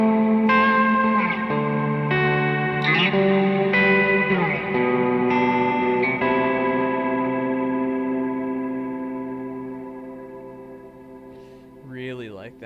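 A large reverb pedal on a studio pedalboard washes a sustained guitar chord into a long, smooth tail that slowly decays, with a few strummed re-attacks early and a brief shift near the end.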